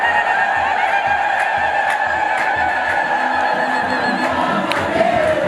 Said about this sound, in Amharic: እልል እያላችሁ እግዚአብሔርን አመስግኑ።